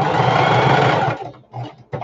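A sewing machine runs steadily for about a second, stitching a half-inch seam on a simple diaper bag, then stops and gives two short bursts, loud and close.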